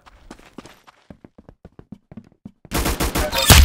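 Gunfire in a video game shooter: a quick run of close, crisp single shots and bursts, then a dense, loud rattle of overlapping fire at the end.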